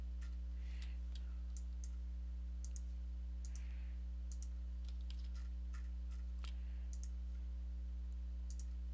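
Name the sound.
keyboard button clicks while digitally coloring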